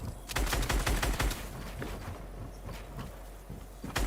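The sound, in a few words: Scar assault rifle gunfire in Fortnite video game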